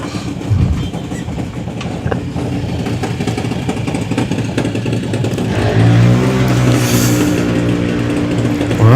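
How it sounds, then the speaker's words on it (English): A drag racing car's engine at the Festival of Power drag strip, a loud, rough mechanical drone with rising harmonic tones as it revs harder, swelling in the second half and heard alone without talk. "Car sounds strong though."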